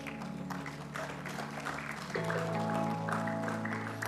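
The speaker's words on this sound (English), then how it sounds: "Can you put our round of applause rolling in" Audience clapping at a convocation ceremony, a broad patter of hands under sustained musical tones, growing slightly louder midway through the short stretch.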